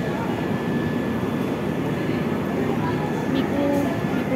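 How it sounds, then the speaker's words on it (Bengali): A train pulls into Kathgodam railway station with a loud, continuous low rumble and rolling noise from close by, a faint tonal whine above it. "এইটা মনে হচ্ছে আমাদের ট্রেন হতে পারে।"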